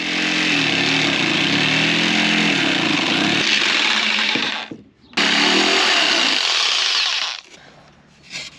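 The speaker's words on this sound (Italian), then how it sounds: "nel frattempo che io taglio le tavole di legna" A power saw cuts wooden boards during a DIY Fiat Ducato camper van conversion, with a loud, continuous whining buzz. The cut breaks off briefly, then resumes before winding down near the end.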